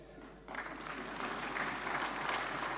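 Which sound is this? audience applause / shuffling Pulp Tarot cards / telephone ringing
audience applause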